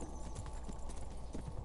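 Horse hooves clip-clop quietly in the medieval video game Kingdom Come Deliverance, a short run of soft, even steps.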